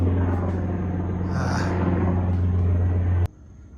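Helicopter passing overhead at a car-build workshop, a steady loud rotor and engine drone with a low rumble that holds for about three seconds, then cuts off abruptly.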